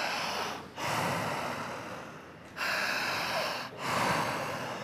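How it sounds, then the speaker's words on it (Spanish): Deep breaths drawn in through an open mouth, filling chest, stomach and diaphragm, heard as three long, loud, rushing breaths separated by brief pauses, close to the mic with no talking. "Abro la boca, jalaré el aire al pecho, al estómago y al diafragma."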